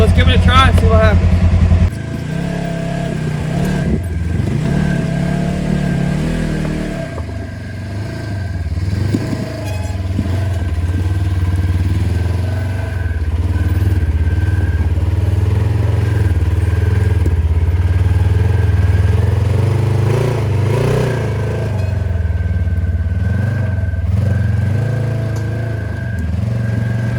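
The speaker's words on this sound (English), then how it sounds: "Side-by-sides, roaring engines loud." Side-by-side off-road vehicles on rough terrain at Escondido Draw near Ozona, Texas, engines droning loudly and steadily for nearly half a minute, with revs rising and falling and rattling clatter over the rough ground.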